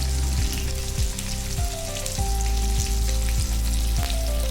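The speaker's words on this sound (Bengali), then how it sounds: "একদিকে মাছগুলো ভাজা হচ্ছে" Fish frying in a pan, a loud, steady close-up sizzle and crackle, with a low rhythmic hum repeating beneath it throughout and no one speaking.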